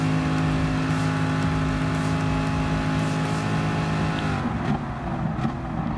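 A BMW M6 GTLM race car engine in Gran Turismo Sport drones steadily at high revs, a loud harmonic whine that holds pitch and then drops as the throttle eases near the end.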